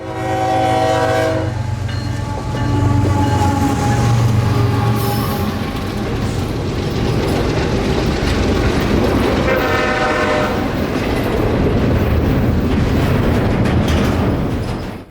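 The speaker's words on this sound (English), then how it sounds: "Q178 being our nightly intermodal stack train out of Winter Haven to Jacksonville" CSX Q178, a nightly intermodal stack freight train from Winter Haven to Jacksonville, Florida, rumbles loudly past close by, sounding two long horn blasts over the continuous roar and clatter of its cars.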